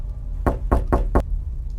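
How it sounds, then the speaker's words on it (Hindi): A light knock on a door, four quick raps spaced evenly, close and clear over a low steady room hum, with no voices. "तभी दरवाजे पर हल्की सी दस्तक हुई।"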